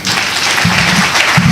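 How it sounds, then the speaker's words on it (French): Loud, close audience applause in a hall for a speaker about to plead a mock trial defence, dense clapping throughout with a few low thumps. "Des applaudissements pour Ben Kalamo."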